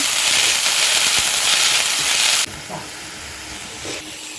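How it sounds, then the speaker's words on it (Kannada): Coriander leaves and mint fry in a pan for chicken biryani, a loud, close, steady sizzling hiss that drops suddenly to a quieter crackle with a few soft stirring knocks, with no talking. "ಕೊತ್ತಂಬರಿ ಸೊಪ್ಪು ಈಟೇನು ಪಜ್ಜಿ ಸ್ಮೆಲ್ ಪೋಪುನೆ ಒಂಚೂರು ಫ್ರೈ ಮಾಡ್ತೆ"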